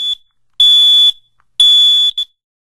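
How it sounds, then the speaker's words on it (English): Smoke alarm set off by pressing its test button, giving loud, piercing electronic beeps: a short blip, then two long sustained tones about a second each, ending in a brief final beep, with no voices. "Test all your smoke alarms at least once a month by pushing the test button like this."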